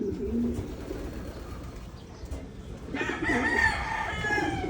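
Pigeons kept as young birds in a Filipino hobby loft coo and call, faint and scattered at first, then louder and busier with overlapping throaty calls in the second half.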